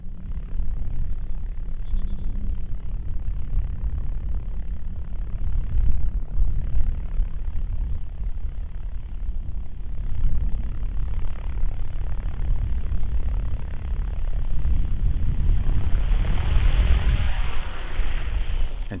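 An RC helicopter descends in autorotation with zero pitch, its rotor giving a steady, moderately loud whooshing drone that swells gently near the end, with no speech.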